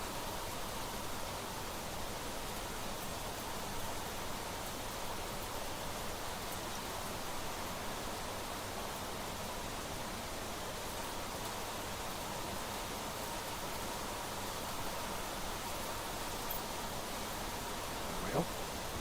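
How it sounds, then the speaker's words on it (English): Rain falls in the video game The Planet Crafter as a steady, soft, even hiss that continues without a break. "and now it's raining."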